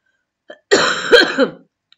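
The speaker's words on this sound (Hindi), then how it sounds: "अब थोड़ा गला साफ हुआ" One throaty cough followed by rough throat clearing, close and loud, with a faint click just before and silence around it.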